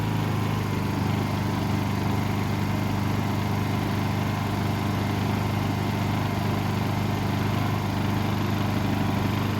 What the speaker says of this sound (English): Hit the econo throttle, let it idle.